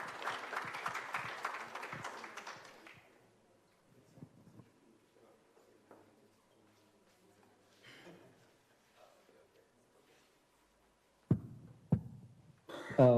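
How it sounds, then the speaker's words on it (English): Applause from a conference audience at a change-makers gathering, a dense patter of clapping for the first few seconds that fades out, followed by quiet room noise and a few louder knocks near the end. "another round of applause"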